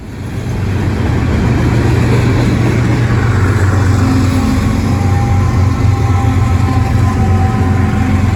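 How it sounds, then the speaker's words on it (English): A Norfolk Southern freight train with ES44DC and ES44AC locomotives rolls past, giving a loud, steady, continuous rumble of wheels and engines that holds without a break. "On the bottom of the train was an NS ES44DC and an NS ES44AC."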